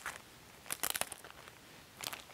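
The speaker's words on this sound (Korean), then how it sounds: "비닐을 열어서" A plastic wrapper on a kit of paper-folding craft materials being opened, giving quiet crinkling bursts around the first second and again near the end, close to the mic with no talking.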